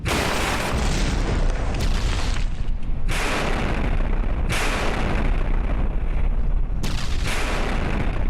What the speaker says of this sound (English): That was a nice chain reaction explosion of all the ammo clips there.